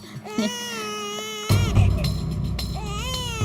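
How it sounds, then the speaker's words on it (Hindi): A small baby cries in rising and falling wails, loud and close, over a busy indoor room background in a Hindi comedy television episode. "सच में ये किसी छोटे बच्चे की रोने की आवाज है।"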